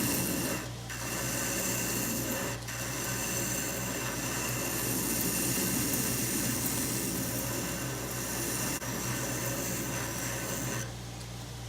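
A belt grinder running a small wheel undercuts the handle of a Polk Knives Woodsman knife in CPM 3V steel, a steady close abrasive rasping drone with a constant motor hum, loud and continuous throughout with no talk.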